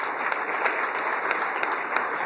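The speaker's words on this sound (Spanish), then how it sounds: "quiero un aplauso bien fuerte para todos ustedes" Loud, sustained audience applause at a contest event fills the whole stretch, a dense, steady wash of many hands clapping with small rises in intensity and no speech over it.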